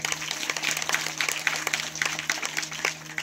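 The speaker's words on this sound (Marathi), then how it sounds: "आपल्या सद्गुरूच्या नावाने जोराची टाळी वाजवा." A crowd at a guru's birth anniversary celebration claps loudly together, a dense, continuous patter of hands lasting a few seconds, with no voices standing out above it.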